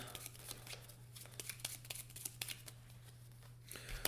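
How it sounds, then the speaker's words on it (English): Quiet riffling and snapping of playing cards as a discard pile is shuffled back into the deck during a Marvel Legendary deck-building card game, a run of soft crisp flicks over a low steady hum. "Shuffle a discard in and draw a new hand"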